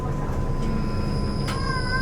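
Inside a long-distance train heading to Surat Thani in Thailand, a constant low rumble of the carriage in motion fills the space, with faint high squeals from the wheels or rails on top.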